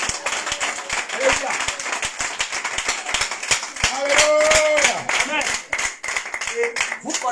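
A church congregation claps in quick rhythmic unison and cheers, close and lively, with voices calling out and singing over the steady handclaps.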